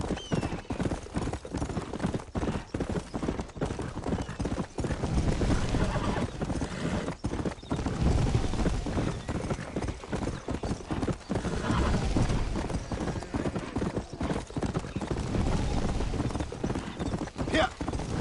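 Horse hooves clip-clop steadily at a gallop in Red Dead Redemption, continuous and close, with occasional whinnies over an outdoor game soundscape.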